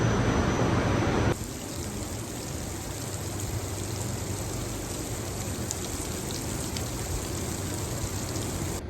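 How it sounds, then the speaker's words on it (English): Steady morning rain falling on a farm, an even continuous patter and hiss throughout, with a brief louder burst at the start, no talking. "I took those couple clips of it raining this morning."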